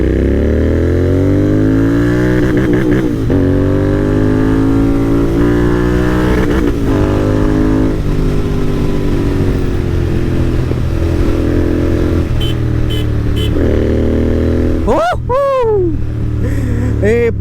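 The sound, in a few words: Royal Enfield GT650 motorcycle with AEW exhaust revving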